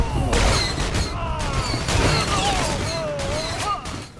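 Blaster fire from a trooper in SWTOR, a sci-fi online game, rattling in dense, continuous bursts with whooshing tones and explosive thumps, loud and close throughout.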